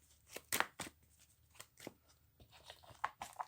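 Papery flicks and riffling of cards being shuffled, in quick irregular bursts, close and fairly soft.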